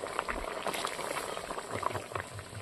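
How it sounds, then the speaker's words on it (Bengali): A thin fish curry broth of yogurt, potatoes and spices boils in a pot, with soft, busy bubbling and small popping blips close by at a low, steady level. "ঝোল ফুটে গেছে"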